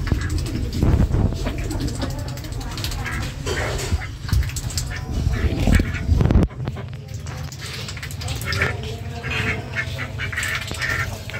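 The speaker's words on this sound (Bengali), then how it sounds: "এখানে 4টা হাঁস আছে।" Ducks quack in an open yard among pigeons, a busy mix of close bird calls, rustling and scattered knocks, with a dog-like whimper at times.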